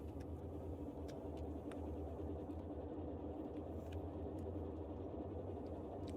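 A Boeing 247D's twin radial engines throttling up in a flight simulator, a steady, loud low rumble that holds constant with a slight droning pulse.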